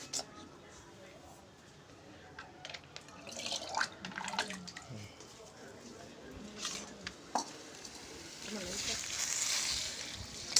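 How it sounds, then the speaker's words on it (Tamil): Water is poured into a cooking pot holding raw banana over an outdoor village fire, a steady splashing rush that swells louder toward the end, with scattered knocks and background noise. "தண்ணி மூட்டை வந்து ஊற்றிடலாம்."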